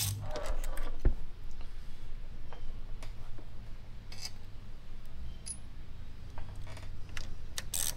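Metal screws are pulled from a Yamaha F225 outboard engine and set down, giving scattered small clicks and metallic taps among quiet background noise, with a sharper clink near the start.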